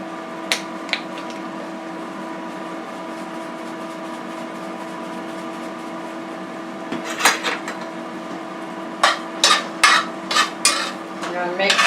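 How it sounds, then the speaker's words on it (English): Shrimp and sausage pasta sauce with garlic and black pepper being stirred in a pan, with soft scraping and several sharp clinks of the utensil against the pot toward the end over a steady background hum. "I'm going to mix that in so that it gets into the broth"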